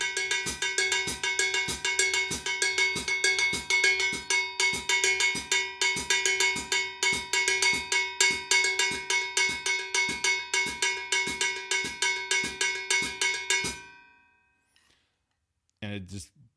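Soca groove played on a drum set, a steady fast pattern of bright, cowbell-like metallic hits and kick accents repeating for about fourteen seconds, then stopping, with a brief thump near the end.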